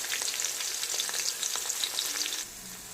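Small shallots frying in hot oil with fenugreek seeds for a pomfret fish curry, a close, bright crackling sizzle with spitting pops that eases somewhat near the end.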